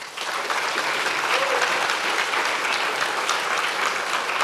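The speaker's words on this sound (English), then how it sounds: "Can I get a round of applause for Andrew?" A round of applause at an entrepreneurship talk featuring a Canadian tech founder: steady, full clapping from an audience that lasts about four and a half seconds at an even level, heard on its own.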